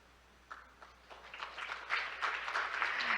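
Audience applause greets the Busan mayor's welcome at the opening ceremony of Arctic Partnership Week; scattered claps start softly and swell into steadier, fuller clapping, fairly distant and not loud, with no talk over it.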